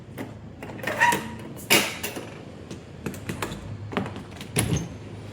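An interior door in an old heritage house, a way out to the back, creaks and clunks as it is opened, with a few loud wooden knocks and scrapes followed by softer handling noises.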